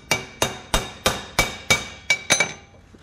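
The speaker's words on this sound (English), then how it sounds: "You know how much hammering it takes to mushroom that out like that?" A hammer peens an old copper rivet with eight sharp, evenly spaced metallic strikes, each ringing briefly, loud and close with no talk.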